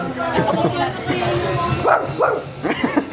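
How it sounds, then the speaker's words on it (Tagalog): A dog gives several yipping barks amid chatter and background babble from a few people nearby. "Aso."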